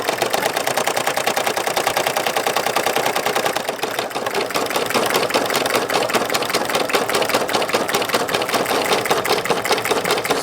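A Brother PE770 embroidery machine stitches a patch with a steady, rapid mechanical chatter, loud and continuous throughout with no talking.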